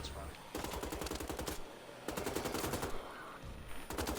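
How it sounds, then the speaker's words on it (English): Two machine guns firing at once in the shooter Wolfenstein: The Old Blood: rapid, rattling bursts of gunfire in long streams, broken by short pauses, loud and close. "Brrrah, 2 machine guns. ra-ta-ta-ta-ta-ta."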